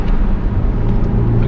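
Low, steady BMW E46 M3 engine rumble at close range, heard through the car window, running continuously without revving.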